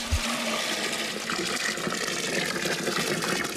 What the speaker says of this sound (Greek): Ρίξαμε και νερό και γέμισε ο κουβάς.